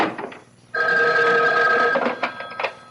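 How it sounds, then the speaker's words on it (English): An old-fashioned telephone bell rings in a radio mystery drama, one sustained bright metallic ring after a short quiet pause, loud and close, then trailing off into faint clicks. "Excuse me, that's my phone."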